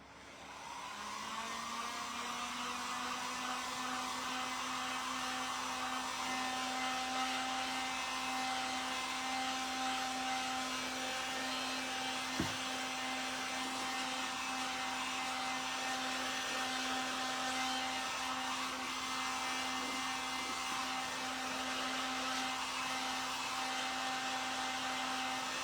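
A hair dryer runs steadily and close by, drying a freshly decoupaged vintage magazine rack, with a constant whirring hum and one brief click partway through.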